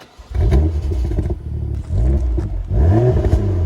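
A BMW M2 engine with a titanium exhaust starts and revs several times up close, each loud roar climbing and falling with a rumbling exhaust between bursts.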